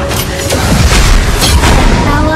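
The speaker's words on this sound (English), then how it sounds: "Your turret has been destroyed." A turret in the mobile game Honor of Kings is destroyed with a loud, deep booming blast and crackling debris, layered with rapid game effects and sharp impacts in a dense, close mix.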